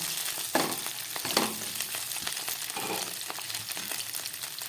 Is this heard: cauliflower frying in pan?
yes